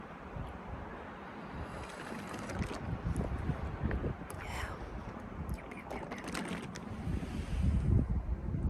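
Wind blowing steadily across an outdoor campsite while living out of a car, a broad rushing roar with gusts building louder toward the end, close to the microphone and buffeting it.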